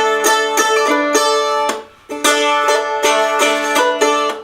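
Irish cut ornament on a stringed instrument, made by hammering onto the second string and releasing. Bright, close notes ring in quick, repeated phrases with a short pause midway and no talking.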